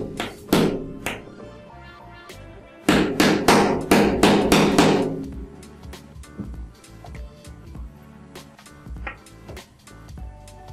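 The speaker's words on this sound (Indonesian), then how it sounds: "tinggal kita pukul dengan menggunakan alat agak keras" Metal hammer strikes driving a pin into a coil jig while rebuilding a TPP 0.15 ohm RBK coil, two loud clusters of rapid close taps followed by lighter scattered knocks and handling clatter.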